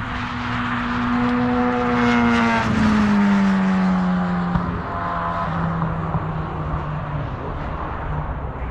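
A fast vehicle roars past on the road, its engine pitch sweeping downward as it goes by, loud and close, then trailing off beneath the steady rumble of a truck cab.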